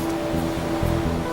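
Arctic ocean waves break in stormy, windy weather along the Norwegian coast, heard as a continuous rushing wash of surf with a low rumbling undertone, no voices present.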